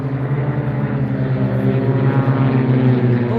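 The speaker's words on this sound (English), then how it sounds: "That looks like another bunch of planes right there, different than the ones that took off." Propeller airplanes fly overhead at an air fair, a steady, loud droning engine hum that holds throughout without a break.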